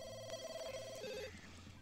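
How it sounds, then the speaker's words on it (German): A telephone rings in The Sims 2, a bright repeating electronic bell over soft game music, with no talking. "Das Telefon läutet"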